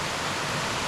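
A waterfall pours in a steady, dense broadband roar with no breaks, close and constant, on a hillside glen above Loch Eck reached by bike.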